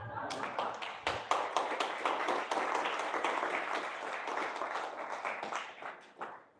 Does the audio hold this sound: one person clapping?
yes